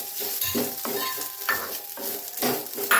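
Grated coconut and cashews frying in a pan, with steady close sizzling broken by repeated scraping stirs of a spoon, heard alone without voices.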